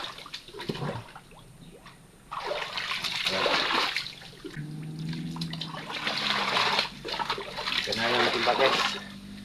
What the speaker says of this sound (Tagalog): malakas yung ano uh, agos ng tubig